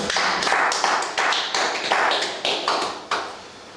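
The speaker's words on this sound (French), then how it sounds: "Acclamez pour le Seigneur." Church congregation applauding the Lord during a French-language service: dense, sustained clapping from many hands, with a steady, slightly rhythmic crackle that fades toward the end.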